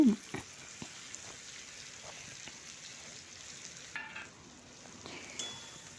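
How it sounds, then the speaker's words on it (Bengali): Potatoes fry and spatter in hot oil in a home kitchen pan, a steady quiet crackling hiss with scattered sharp pops, brief louder bursts near the start and around the fourth and fifth seconds. "এটা ভাজা হয়ে গেছে আলুটা আলু থেকেও তেল ছাড়তে শুরু করেছে ছিটা ছিটা লাগছে"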